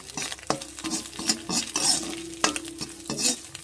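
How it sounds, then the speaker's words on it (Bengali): An egg fries in a pan, a soft sizzle running beneath repeated sharp metallic scrapes and taps of a spatula against the pan, several distinct knocks spaced unevenly. "ডিমটা ভাজা হয়ে গেছে"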